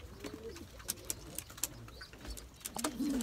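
Tumbler pigeons coo softly inside a coop, low throaty calls recurring among faint chirps and light rustling, fairly quiet with no voices.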